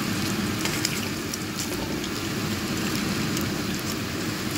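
Banana slices pan-frying in butter for pritong saging, an even, dense crackling sizzle close by, steady throughout without talk.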